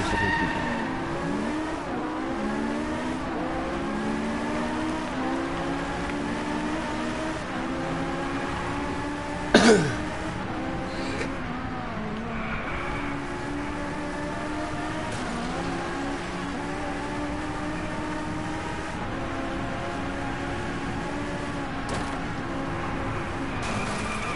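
A damaged Ferrari 458 in a racing video game revs and shifts through gears repeatedly, its engine note climbing and dropping close up, with a brief tire squeal or impact midway and no speech.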